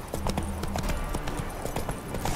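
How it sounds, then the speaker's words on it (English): A horse gallops in The Witcher: Wild Hunt video game, its hooves beating a quick, steady clip-clop rhythm close up, with little else. "I'm on a really fast horse"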